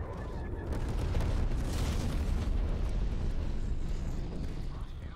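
A napalm strike in a shooter video game sets off a long, loud, rumbling explosion. The roar holds steady for several seconds with a crackling burst near the start, and no one speaks over it.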